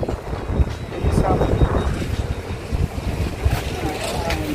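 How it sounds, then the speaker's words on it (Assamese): Steady wind rushes across a microphone on a bridge over a river along a national highway, a continuous low buffeting rumble with gusty swells throughout, with faint engine or water noise beneath and no clear talk. "কুমলীয়া কুমলীয়া বতাহ"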